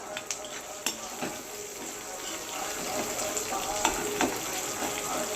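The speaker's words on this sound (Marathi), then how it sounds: "अद्रक आणि कढीपत्ता छान परतून घ्यायचं आहे।" Garlic, ginger and curry leaves sauté in a pan, making a low, steady frying sizzle with a few sharp clicks and scrapes, fairly quiet and close, and with possible running water in the background.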